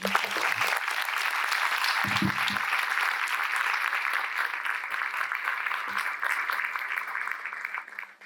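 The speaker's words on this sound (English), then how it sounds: "let's have one big round of applause for him" Audience applause following a lecture by an economist at a university event, a dense, steady wash of many hands clapping for about eight seconds before tapering off at the end, with a brief voice murmur early on.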